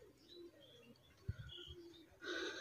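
Female Teddy pigeon with a black neck and white eyes cooing, low soft coos in the middle with a brighter burst of bird calls near the end, faint and close, no talking.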